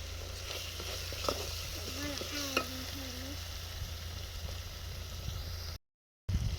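Masala roasts in a pan with a low, even sizzle and scraping stirs, and a faint voice sounds briefly in the background before a short drop to silence.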